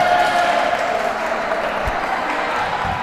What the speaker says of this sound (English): Check into applause from the crowd